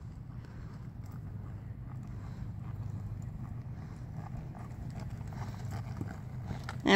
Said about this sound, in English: When you're ready, ask her a trot.